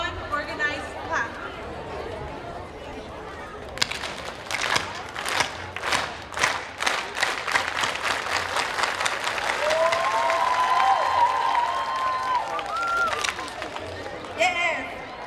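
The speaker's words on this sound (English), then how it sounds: "The clap starts slow, it gets faster and faster, and we end with one organized clap." An organized group clap at a mayoral candidate forum in San Jose, starting with slow, separate claps that speed into a rapid run and merge into continuous crowd applause, with faint chatter and a few voices underneath.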